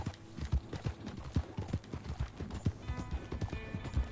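Horse hooves clip-clop in a steady, close rhythm during a ride in Red Dead Redemption 2, heard alone with faint game ambience behind.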